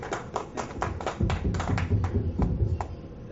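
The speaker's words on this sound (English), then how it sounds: "give Dr. D a big round of applause for his years of dedication" Awards ceremony guests give a lifetime honoree a round of applause: a cluster of distinct claps, fairly close and moderately loud, with a low rumble of room noise underneath.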